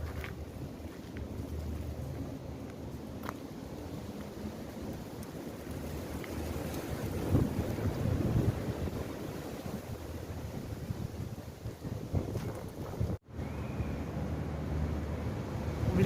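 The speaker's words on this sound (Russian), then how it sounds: "но сейчас просто ледяной ветер." Icy cold wind blowing by the sea on a Sochi embankment near a rotunda, a continuous buffeting roar rumbling against the microphone, loud and unbroken with gusty swells and a brief dropout.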